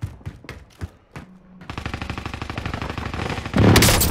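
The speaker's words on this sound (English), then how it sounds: "Enemy precision airstrike, take cover!" Call of Duty Warzone Resurgence precision airstrike: a few scattered thumps, then a rapid, dense rattle of blasts building up to a louder, heavier roar at the end, with no talking.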